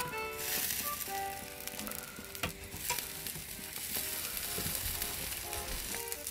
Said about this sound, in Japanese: そんなこんなでサバがいい感じに焼けたんですけど